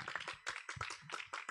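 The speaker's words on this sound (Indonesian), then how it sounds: "Tepuk tangan untuk kita semua." Brief, faint clapping from an audience at a religious lecture gathering, a quick run of uneven hand claps lasting under two seconds.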